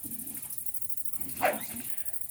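A Jagdterrier male gives a short whimpering whine and a brief bark-like yelp near the middle, close but fairly soft over low background hum.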